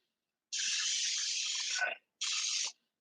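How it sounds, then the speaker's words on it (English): Non-stick cooking spray hissing onto a pan in two bursts, a long spray of about a second and a half followed by a shorter one, close and alone. "I use non-stick cooking spray, whatever I can get."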